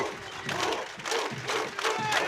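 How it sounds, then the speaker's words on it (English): At a Premier Interschools rugby match between Bishops College and Rondebosch Boys High, a spectator crowd roars and chants in surging waves, loud and sustained, with rhythmic bursts of shouting rising and falling every half second or so. "Crowd starting to get behind Rondebosch now."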